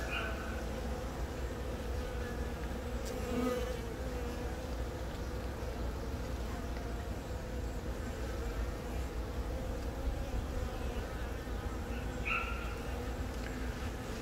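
Honeybees swarm around a hive frame held up close, making a steady, low droning buzz throughout. Faint handling noises sit in the background.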